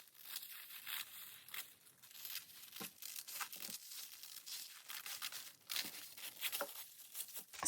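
Lace or fabric is torn for a slashed paper journal, producing quiet, intermittent ripping and crinkling bursts close to the microphone.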